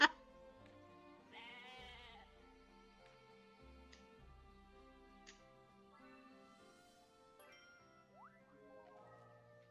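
Goat bleating in a video game, a wavering cry near the start followed by softer tonal game sounds and a few faint drips, with no speech over it.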